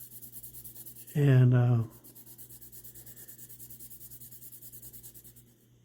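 A Scotch-Brite pad scrubs heavy rust off the blade of a camp knife in rhythmic back-and-forth rubbing strokes, interrupted by a brief spoken word.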